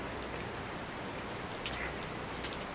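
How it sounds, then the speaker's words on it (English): Water dripping and pattering from ice-coated trees after an overnight ice storm, a faint steady patter of drops with a few brighter individual drips. "You can hear the water coming in."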